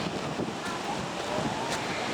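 Sea waves wash onto a Baltic beach at Brzeźno, Gdańsk, with strong wind buffeting the microphone in a constant broad roar, with no talk.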